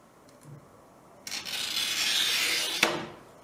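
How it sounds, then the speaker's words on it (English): A glass cutter scores a 6 mm glass sheet to take off a thin strip, giving one steady, close rasping scratch of about a second and a half that ends in a sharp click, alone in a quiet room. "a thin strip is cut off using a glass cutter"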